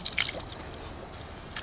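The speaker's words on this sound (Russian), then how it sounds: "вот течет вода. Вот обычная вода из-под земли" Water from an underground spring trickles and splashes softly in a thin, continuous flow, close but faint, with outdoor background noise and no voices.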